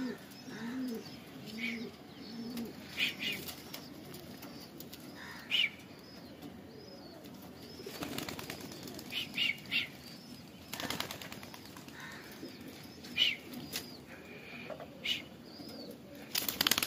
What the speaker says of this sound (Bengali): আর এখানে 5টা ফিমেল আলিমদার ছাড়ছে।